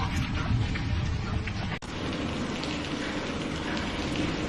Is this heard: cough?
no